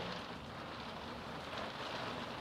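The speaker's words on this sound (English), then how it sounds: "A lot of people tell me it's very relaxing to listen to the rain on the studio." Heavy rain drums steadily on a studio roof, a dense, even hiss with no pauses that stays fairly soft throughout.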